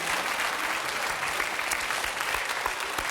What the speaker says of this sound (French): On applaudit bien sûr Valentin et Alain.